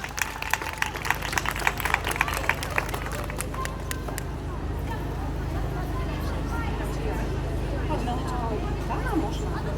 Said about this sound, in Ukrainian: Оплески, будь ласка.